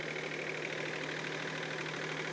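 A Kioti CS 2520 compact tractor's diesel engine idling, a steady, even drone with a low hum and faint knocking texture, continuous and moderately quiet with no voices.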